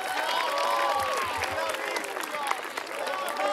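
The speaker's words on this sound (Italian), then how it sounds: "L'applauso, per favore," Crowd applause at an evening church youth summer camp gathering in Cormòns, steady broadband clapping with cheering voices and chatter mixed in, continuous and fairly loud throughout.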